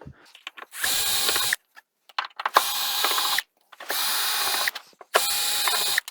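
A power driver backs screws out of the stand base of an old 42-inch LG plasma TV: four separate high whirring bursts, each about a second long, with short gaps and small clicks and handling noises between them.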